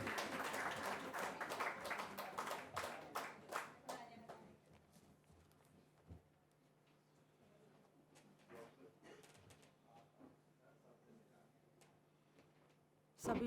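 An audience at a poetry reading applauds for the poet Suman Lata, with brisk dense clapping for the first few seconds that thins into scattered claps and quiet room noise, then a sudden loud knock at the end.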